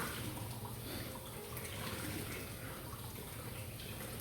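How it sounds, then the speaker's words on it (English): Warm tap water runs steadily over fresh herbs being washed in a kitchen sink, a continuous close splashing hiss filling the whole moment without pause. "Now, notice I am washing this. I'm holding it under warm water."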